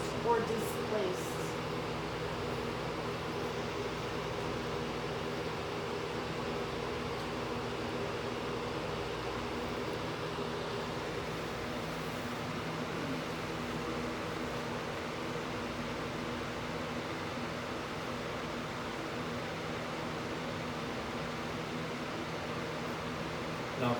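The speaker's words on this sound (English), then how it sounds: "Now, of course, the fan is on" A fan runs continuously in a quiet downstairs room of the Paw Paw Playhouse, giving an even, broadband white-noise hiss that holds level for the whole stretch.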